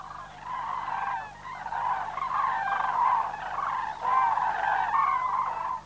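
Large birds with a 2.2 m wingspan, resting near the border at Dannenberg or Obersuhl, call in a continuous chorus of honking, trumpeting voices, steady and fairly loud, with no talk over it.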